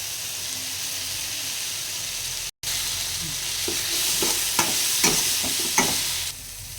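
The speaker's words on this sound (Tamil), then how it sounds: "இது நல்லா வதங்கினதுக்கப்புறம் வேக வச்ச பலாக்கொட்டையும் முந்திரியும், தேவையான அளவு உப்பு, திருவிட தேங்காய்" Boiled jackfruit seeds, cashews and grated coconut stir-fried in a pan with a steady close sizzle, a brief dropout, then a run of scraping stirs that grow louder toward the end.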